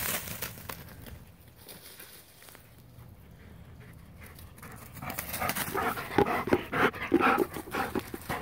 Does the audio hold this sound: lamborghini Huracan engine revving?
no